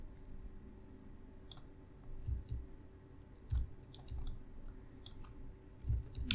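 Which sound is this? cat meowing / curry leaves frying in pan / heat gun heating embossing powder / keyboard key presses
keyboard key presses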